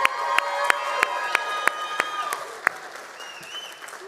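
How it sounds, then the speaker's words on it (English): Audience at a school district State of the District event applauds a student. Sharp, evenly spaced claps ring out over sustained tonal sounds and voices, fairly quiet and thinning toward the end. "Give her a big round of applause."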